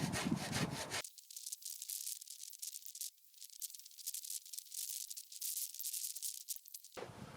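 A scraper works caked dead grass off the underside of a Kubota ZD1211 zero-turn mower deck, giving a run of close, rhythmic rasping strokes with short pauses between them.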